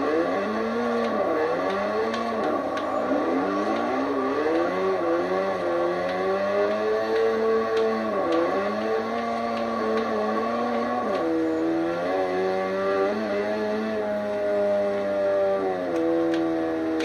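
A Toyota FRS drifting in the Forza Horizon video game, engine revving and wailing in sweeping pitch bends as it slides, loud and continuous throughout with no talking.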